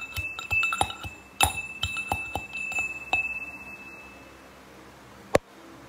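Garlic cloves are crushed in a hard vessel, giving a series of close, sharp metallic clinks and taps, some ringing briefly. Then comes a pause and a final louder knock.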